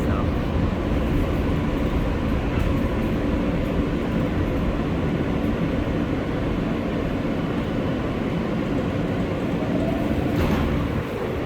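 A New York City subway R143 car riding the L train, heard from inside as a loud, steady rumble and roar of wheels on track, broad and unbroken, with a faint higher squeal near the end.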